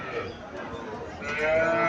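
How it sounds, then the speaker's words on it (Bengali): A Sahiwal calf moos at a cattle market, a drawn-out low call over a busy background of voices and market noise. "এটা সাইওয়াল জাতের বাছুর।"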